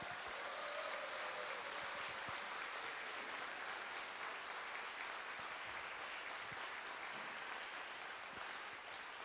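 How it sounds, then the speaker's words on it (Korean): A concert audience gives a long, full round of applause to the Busan Conductors Choir, an unbroken dense roar of many hands clapping that stays even and loud throughout. "큰 박수 부탁드립니다."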